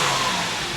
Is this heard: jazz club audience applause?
no